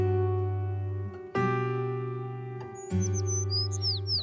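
Bird calling against a steady tonal music bed, a few quick high chirps and rising whistles near the end, soft and close.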